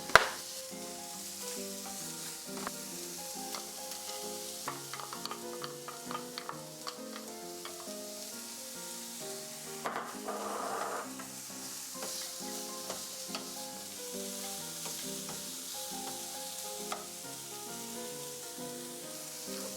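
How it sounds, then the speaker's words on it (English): Vegetables fry in vegetable oil in a pan with a soft, steady sizzle and scattered light crackles, faint under background music. "Add vegetable oil to a pan and add the vegetables."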